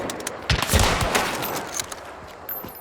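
Gunshots ring out in Hunt: Showdown as several loud, booming reports with rolling echoes cluster early on, then fade into quieter distant cracks.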